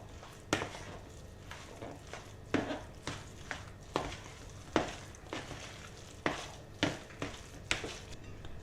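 A spoon stirs a mixture of potatoes and eggs in a bowl, giving repeated soft scraping strokes with sharper clinks every second or so, close and fairly quiet, with no voices.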